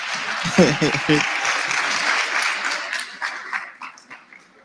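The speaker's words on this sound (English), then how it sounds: "Let's give Mr. Murillo a good round of applause." Applause for a speaker at a national student representative council induction, crowd clapping under a few sharp dog-like yelps and voices early on, then thinning and fading out toward the end.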